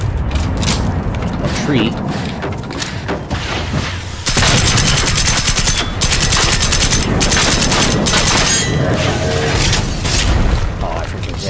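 Sniper rifle fire in the video game Generation Zero comes as loud booming gunfire and a dense, sustained burst of shots, heavy and close, with a voice talking over parts of it.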